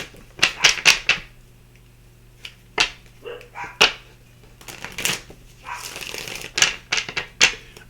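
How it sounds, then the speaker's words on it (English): Dogs barking in short sharp bursts, several quick barks in clusters with pauses between, fairly close and clear with no talk over them. "You hear the dogs? They warning you."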